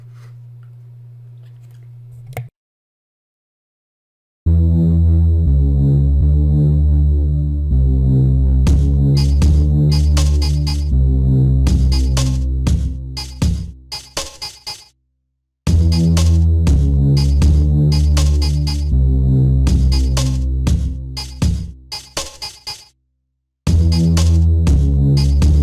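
A synthesized bassline and drum pattern built in Reason plays back loud and looping, with deep repeating bass notes under crisp hits, cut by two short pauses before restarting.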